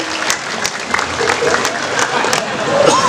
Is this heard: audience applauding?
yes